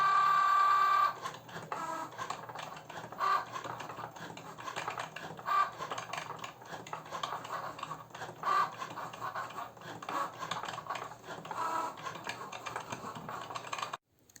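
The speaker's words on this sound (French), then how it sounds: "le temps que la machine fasse la découpe" A Cricut Joy machine cuts vinyl for a mug, giving a steady close mechanical whir with rapid ticking and scratching of the blade carriage that runs on evenly, then stops abruptly at the end.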